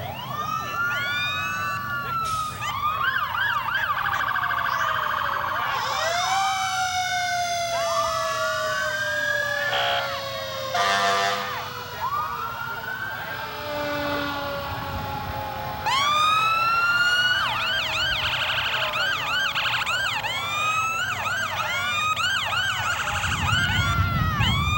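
Several emergency sirens on a fire department truck, a hook and ladder truck and an ambulance in a Memorial Day parade in Royal Oak wail and yelp at once, rising and falling loudly as heavy trucks pass close, with low engine rumble.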